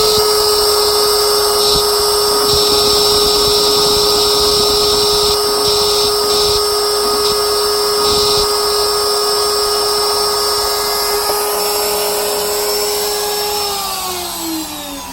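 An Inventables CNC machine runs steadily with a high, whining spindle, its drill bit cutting into the material. The tone holds loud and constant throughout, then winds down and drops in pitch near the end.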